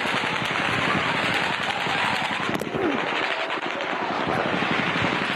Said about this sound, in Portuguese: Mas logo em seguida, os tiros recomeçaram.